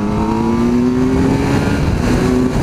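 A Kawasaki Z900 roadster motorcycle accelerates hard to overtake, its engine note climbing steadily, loud and close throughout with no speech.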